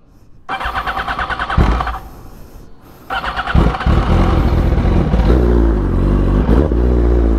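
A 2007 Yamaha R1 motorcycle cold-starts with a loud crank and catch, stumbles briefly, then fires again and settles into a steady, loud, high automatic idle rev, close by with no talking.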